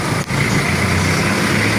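A motorcycle engine idles steadily outside a sticker printing shop, a constant close rumble with no talking.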